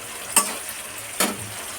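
Grated ginger is tossed into a pan of fried onion, tomato and green chilli. Two sharp stirring scrapes land about a second apart over a soft, low sizzle.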